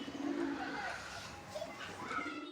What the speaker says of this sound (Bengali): চকির পিলেটা নর পায়রা হয়েছে, হেভি ডাকছে